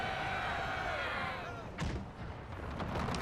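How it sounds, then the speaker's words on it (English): Horse-drawn artillery firing canister in the Napoleon: Total War Era mod, heard as a few heavy booms over continuous battlefield din, with a sustained drone fading out early on. "2 horse-drawn artilleries starting to pound the enemy"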